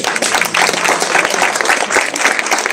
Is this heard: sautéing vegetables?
no